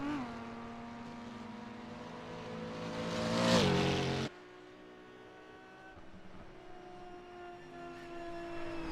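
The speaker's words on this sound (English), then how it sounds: "It's good seeing cars within visual distance of each other as they come through." Race cars in an Isle of Man time trial pass close by one after another, with a rising engine whine that peaks in a loud Doppler sweep and cuts off abruptly, then a second car's tone holds steady.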